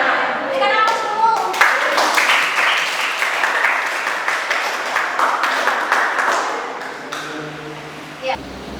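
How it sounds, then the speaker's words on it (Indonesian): An audience of students applauds, a dense burst of hand clapping that swells quickly, holds steady for several seconds, then thins out and fades, with voices mixed in at the start. "Berikan aplaus dulu."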